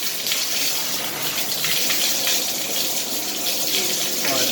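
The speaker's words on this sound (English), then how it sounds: "And then I'm turning on the water and see what happens." Water running steadily from a repaired Price Pfister shower valve, a loud, continuous hiss of spray with no pauses or talking.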